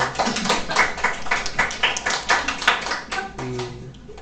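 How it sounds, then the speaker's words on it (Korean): Applause from a youth volunteer training gathering of the Suwon diocese, a run of hand claps that rises and falls, with a brief voice near the end. "박수 한번 쳐드릴까요?"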